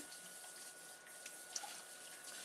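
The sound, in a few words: rinsing a lid under the tap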